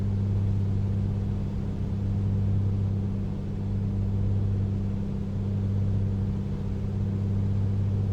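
A light aircraft engine drones at 50% power and about 2,000 RPM in a flight simulator game: a steady, loud, continuous low hum with no change in pitch.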